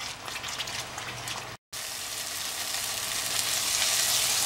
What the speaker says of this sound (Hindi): अब इसको बढ़िया हम लगभग 10-1 मिनट तक पकाएंगे और भुनेंगे।